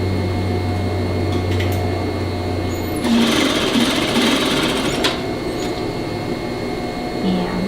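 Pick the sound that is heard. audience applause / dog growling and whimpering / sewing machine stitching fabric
sewing machine stitching fabric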